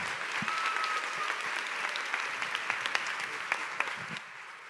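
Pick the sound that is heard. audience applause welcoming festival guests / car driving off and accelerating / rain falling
audience applause welcoming festival guests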